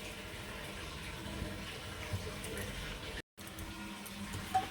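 Water runs steadily as it is added to flour dough kneaded with oil for luchi-style dough, a continuous close splashing with a brief dropout near the end.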